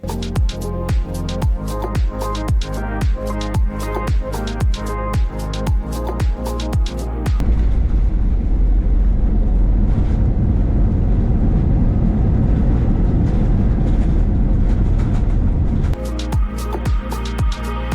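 Air India Express airplane landing: a clattering rhythmic stretch gives way to a long, loud, broad roar like reverse thrust after touchdown, then the rhythmic clatter returns.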